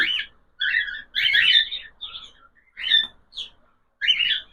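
Bright, shrill cockatiel chirps come in short bursts separated by brief pauses, fairly close and clear with no talking.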